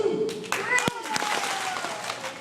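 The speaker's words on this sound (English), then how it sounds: "You can clap all you want, but we're starting on the count of 3." Audience applause at a sea lion show, a crowd clapping in scattered bursts mixed with sharp individual claps, heard under a nearby voice speaking.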